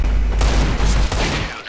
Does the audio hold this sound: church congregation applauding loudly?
no